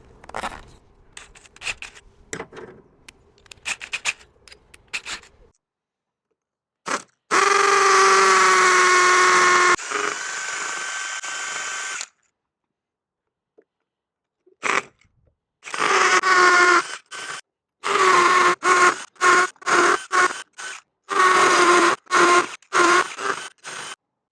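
A power drill bores 12mm holes into a wall for plugs while a wall-mounted pressure washer is being installed. Several loud, close, sustained drilling runs are separated by scattered knocks and handling clatter.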